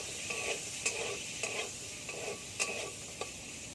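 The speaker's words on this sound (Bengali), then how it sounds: "আমরা বেগুনটা ভেজে নেব" Eggplant pieces fry in hot oil with a steady close sizzle, broken by a few sharp scrapes and clinks as they are stirred in the pan every second or so.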